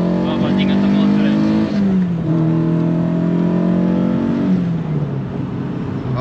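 A naturally aspirated BMW E30 M3 engine with a Haltech ECU runs loud and close, its steady drone climbing and dipping in pitch through the whole stretch.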